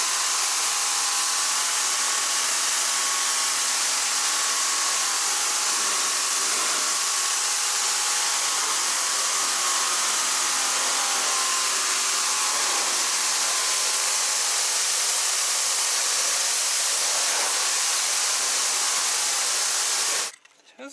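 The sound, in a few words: Greenworks 2300 electric pressure washer running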